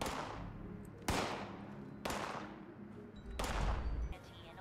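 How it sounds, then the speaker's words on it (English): Gunfire in the video game Fallout 76: four sharp, loud shots spaced about a second apart, each trailing off into a rumbling echo over a low ambient drone. "Is someone shooting at me? Or is someone just shooting in general?"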